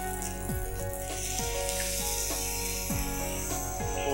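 A little soy sauce hits a hot wok of Schezwan fried rice. It gives a steady, close sizzling hiss that lasts the whole moment, with faint tossing sounds and no voices.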